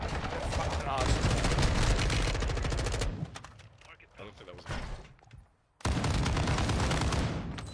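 Rapid automatic gunfire from Call of Duty: Warzone 2.0, loud sustained bursts that cut out briefly mid-fight before a second heavy burst resumes, with a voice talking over the shooting.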